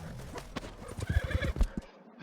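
A horse in Red Dead Redemption 2 lets out a whinny, followed by a run of close clip-clopping hoofbeats that fades to quiet.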